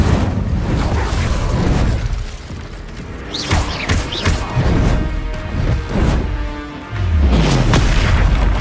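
Incendio fire spell explosions in Hogwarts Legacy combat, loud booming blasts and crackling bursts layered over a dense continuous rumble of battle effects and music.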